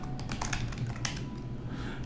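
Someone types on a computer keyboard up close in a quick, uneven run of sharp key clicks that continues throughout.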